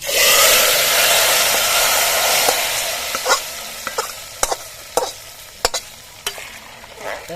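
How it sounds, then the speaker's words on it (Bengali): Lentils being stirred in hot oil in a large cooking pot, a loud sizzle at first that fades as sharp scraping knocks of the spoon against the pot repeat irregularly. "ভালো করে নেড়ে দেবো"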